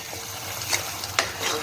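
Masala spices frying in a little oil in a kadhai, a steady close sizzle with stirring scrapes and a couple of sharper spatters.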